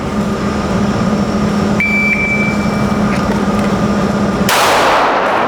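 A shot timer gives a thin electronic beep for about a second, then a sharp, loud gunshot cracks out a little later over a steady low hum.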